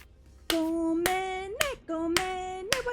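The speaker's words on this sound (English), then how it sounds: "The clapping is me trying not to lose my mind" Five loud, close hand claps spaced irregularly over a sustained tonal background, each clap a sharp crack cutting through a held pitched sound during a card-opening session.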